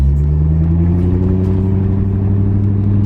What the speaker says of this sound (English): I'm gonna go for a little spin around the neighborhood